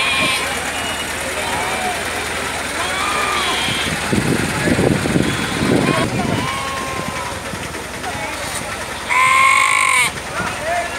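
Sheep bleat at a busy livestock market yard, a few calls rising over a steady crowd murmur and idling engine hum, with people talking nearby throughout.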